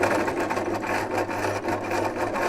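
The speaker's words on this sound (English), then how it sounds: "then you start zigzagging" Sewing machine zigzag stitching through folded scrap fabric for a basket, a steady close whirring hum with a fast rhythmic needle pulse running without pause.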